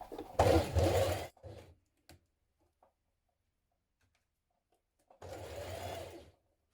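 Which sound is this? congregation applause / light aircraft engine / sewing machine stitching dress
sewing machine stitching dress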